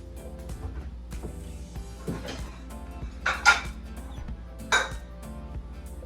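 A plate is fetched and set down in a kitchen during crepe making, with a few sharp ceramic clinks and knocks, two louder ones, over a low steady hum.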